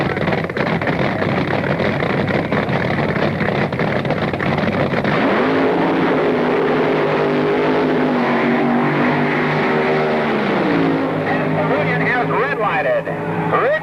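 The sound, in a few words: Mustang-bodied and Barracuda-bodied drag cars racing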